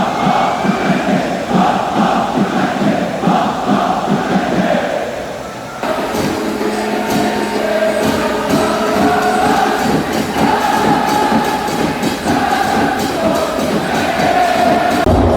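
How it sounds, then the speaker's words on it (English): Loud football fans fill a stadium at an Incheon United vs. FC Anyang league match, a dense continuous roar of crowd noise with chanting and shouting, close and sustained throughout. "both sets of fans are very loud,"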